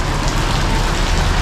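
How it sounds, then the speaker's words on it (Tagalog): Heavy, steady rain pours down in Sagada, a dense continuous hiss of drops striking surfaces, loud and close with no pauses and no voices. "Walang tigil ang ulan sa Sagada."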